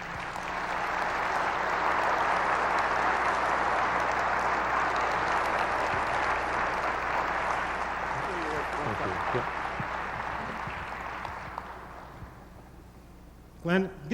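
A large audience at an ACE Hardware annual meeting applauds after a futurist keynote by Glen Hiemstra. Thick, sustained clapping swells and holds for about ten seconds, then thins out and fades, with a brief louder sound at the very end.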